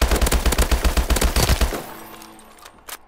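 Gun from Call of Duty Advanced Warfare firing a steady rapid burst of about a dozen loud shots, then stopping as the echo fades, followed by a faint mechanical click.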